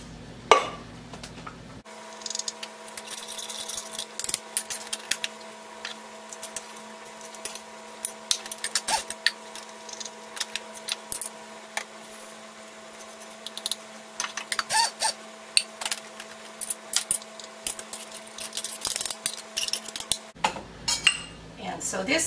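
Toasted sesame seeds are ground by hand for gomasio, with scattered close taps, clinks and scrapes of a utensil against a hard bowl over a faint steady hum, and no talking.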